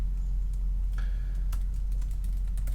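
A computer keyboard is typed on in quick, irregular bursts of light clicking keys, close by over a constant low electrical hum, with no talking.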